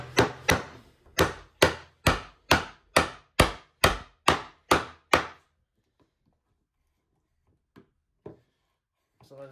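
A wooden mortise is chopped by hand with a chisel: about a dozen sharp, evenly spaced strikes land in quick rhythm, close and loud, then give way to near silence broken by a few faint taps.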